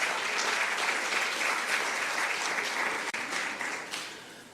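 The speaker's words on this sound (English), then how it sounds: "Could you give her a round of applause, please?" Audience at a business and economic outlook conference gives a sustained round of applause, loud and even, thinning out toward the end.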